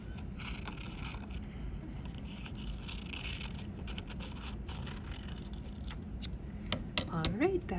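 Scissors cut a paper rainbow shape, with a run of close, crisp snips and rustling paper over a low room hum, then a brief voice near the end.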